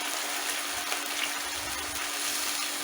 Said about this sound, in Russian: И добавлю немножко воды, горячей воды, чтобы сковородка не так бушевала.